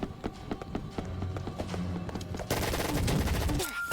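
Rapid bursts of gunfire from a video game gun crack in quick succession, growing denser and louder in the second half, with no talk over them.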